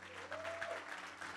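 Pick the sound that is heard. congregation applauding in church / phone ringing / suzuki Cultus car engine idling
congregation applauding in church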